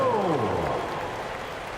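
Arena crowd in an NBA 2K25 basketball game cheering and applauding, a steady roar of clapping that fades slightly, while a voice speaks over it at the start.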